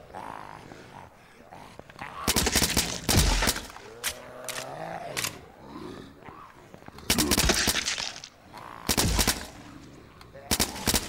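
Zombies are gunned down in Blood Waves with loud, clustered bursts of rapid gunfire that come in several separate volleys. Groans and other game sounds fill the gaps between the bursts.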